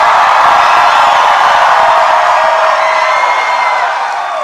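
A large crowd at a Donald Trump rally in Geneva, Ohio cheers and roars loudly and continuously, a dense wash of voices that fades slightly toward the end.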